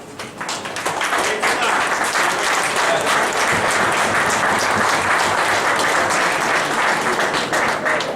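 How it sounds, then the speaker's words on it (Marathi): Loud, sustained applause from a large seated audience at a talk, dense clapping that swells in within the first second and holds steady and close for several seconds, with faint crowd murmur beneath. "मी कोणी टाळ्या वाजवलेल्या आहेत आणि जोरात वाजवलेल्या आहेत सगळं बघितलेलं आहे."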